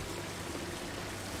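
Water pours in a steady, close stream in Zelda: Tears of the Kingdom, an even splashing wash that continues unbroken for the whole short stretch with no voices.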